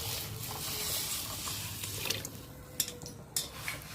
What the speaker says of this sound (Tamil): இப்போ கரைச்சி வச்சுருக்க புளி மிளகாத்தூள் தண்ணியை வந்து அதில் ஊற்றிக்கலாங்க.